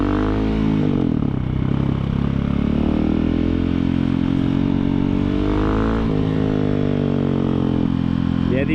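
A KTM 690 dual-sport motorcycle's loud single-cylinder exhaust drones steadily while riding on the road, rising and falling slightly with throttle, heard close and continuous throughout.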